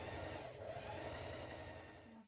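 A domestic sewing machine runs steadily as it stitches a hem, giving a continuous, fast, even mechanical whir close by that slows and tails off at the very end.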